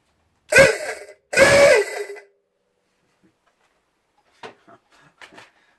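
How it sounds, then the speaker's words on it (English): An old klaxon horn from an Austin Westminster 6110, tested off the car, gives two loud buzzing blasts, the second longer and dropping in pitch as it dies away, followed by faint clatter. "see how the klaxon or claxton horn sounds."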